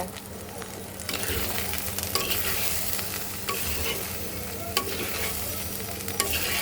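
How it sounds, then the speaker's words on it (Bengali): Turmeric and coriander powder being stirred with cauliflower and potato in a frying pan, a steady sizzle broken by repeated scraping strokes and occasional utensil knocks, close up. "এবার সব কিছু সুন্দর করে মিক্সড করে নেব"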